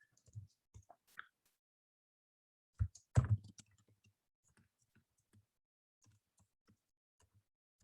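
Sparse keyboard typing in a quiet room during a lecture on causal inference, a few faint isolated clicks and one short burst of keystrokes, then scattered soft taps, with no talking.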